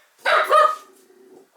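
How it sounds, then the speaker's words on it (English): A young half Rottweiler, half Australian cattle dog puppy gives a single short bark that trails into a brief whine, close and moderately loud in a quiet room. "what kind of dog is that? So it's half Rottie, half Australian cattle."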